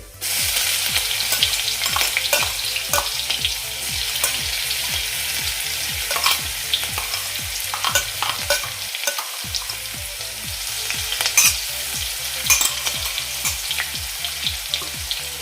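Coarsely ground garlic, green chili and coriander masala with cumin seeds sautéing in hot oil, a loud continuous sizzle with rhythmic stirring strokes scraping the pan, close and steady with no talk.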